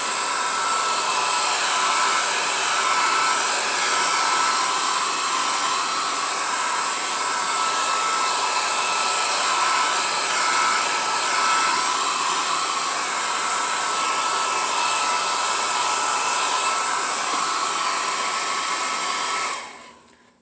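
A blow dryer, used to warm tape on an art canvas, runs steadily and loudly with a constant whooshing whine, then cuts off abruptly at the end.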